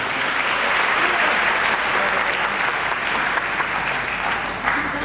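An audience at a Pokhara music concert claps loudly and continuously to welcome a singer to the stage, a dense, sustained round of applause.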